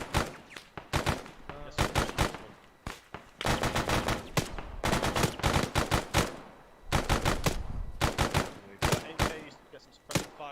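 Bursts of automatic gunfire in the military game Arma 3. Clusters of sharp, loud shots come in uneven volleys separated by short pauses over a continuous battle backdrop.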